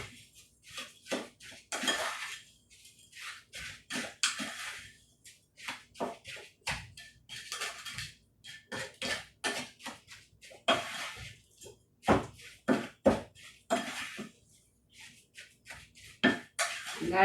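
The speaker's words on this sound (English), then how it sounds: "I'm going to go ahead and mix this up and see what we have." A spoon scrapes and clanks in a bowl as black bean burger mixture is stirred together with panko breadcrumbs, giving repeated close, irregular scraping and clinking strokes with short pauses between and no talk.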